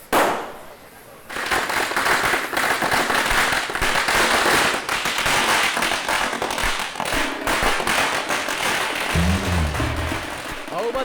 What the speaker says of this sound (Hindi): हे, पटाखे जलाओ।